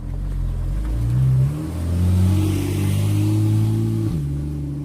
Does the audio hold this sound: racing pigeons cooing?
no